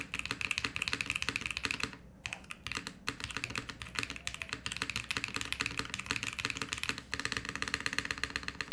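Rapid clacking keystrokes come from a Bauer Lite prototype mechanical keyboard with no foam inside, typed close and continuously with a brief pause midway.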